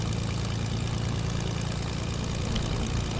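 A stolen plane's engine idles in Fortnite, a steady low drone with a propeller-like hum that holds at an even, moderate level throughout, with no voices over it.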